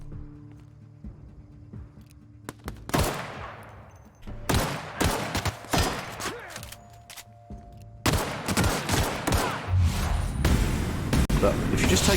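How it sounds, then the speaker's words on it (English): Gunfire in The Outer Worlds, a sci-fi shooter game, comes as bursts of sharp shots and volleys mixed with game effects, with someone talking over much of the action. "Stop shooting at me."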